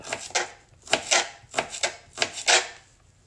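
A knife slicing through food, apparently a few pieces on a board before bananas are cut: five or six close, crisp cutting strokes arriving in pairs with brief pauses, no voices.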